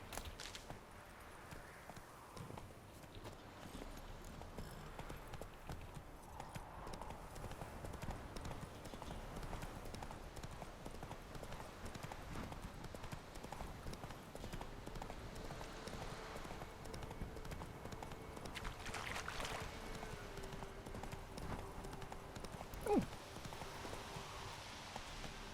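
Hoofbeats of Roach, Geralt's horse in The Witcher 3: Wild Hunt, clip-clop steadily and continuously at moderate distance over ambient game sound, with a brief sharper accent near the end.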